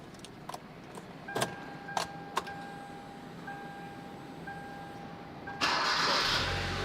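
A Hyundai Avante MD gasoline car with about 97,650 km cranks and starts, preceded by faint key clicks and chimes, then the engine catches and settles into a steady idle; no talking.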